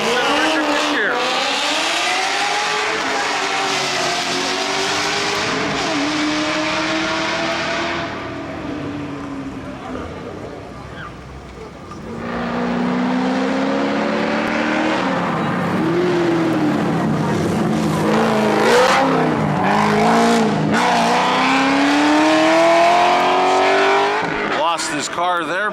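A race car at the Weatherly Hill Climb roars loudly up the course, its engine rising in pitch through repeated gear changes with a brief lull midway, while a commentator talks over it.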